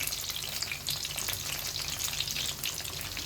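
Boneless chicken pieces fry in a pan of hot oil, giving a loud, steady, close sizzle and crackle that holds throughout with no pauses and no talking.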